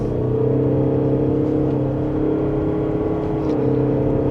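2026 Mazda CX-50 Hybrid Premium Plus accelerating in power mode from second gear, a moderately loud, steady engine drone with a slightly rising hum and faint whir.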